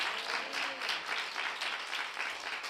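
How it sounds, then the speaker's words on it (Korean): Congregation applause at a Friday worship service after a pastor's announcement, a steady dense patter of many hands at moderate level with no talk over it. "우리 하나님 앞에 감사로 박수로 영광 올려드립니다"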